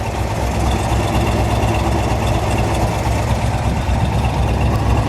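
A 1964 Chevrolet Impala SS 409 V8 idles through factory dual exhaust, a deep, steady rumble with a throaty, even burble and no other sounds.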